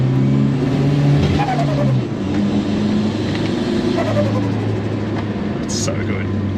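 A Honda Civic engine idles and revs close by, a couple of short rising pitch sweeps over a steady rumble, with quiet talk underneath.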